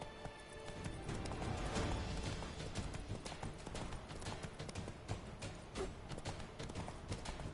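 Roach, the horse in The Witcher 3, galloping hard with a steady rapid clatter of hooves that keeps on throughout, fairly close and alone with no talking.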